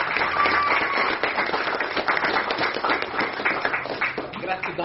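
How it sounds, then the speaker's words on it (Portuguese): A congregation applauds a preacher at a church service, with brisk uneven clapping that comes and goes and voices mixed in over the hands, heard close and fairly loud. "Vamos aplaudir papai."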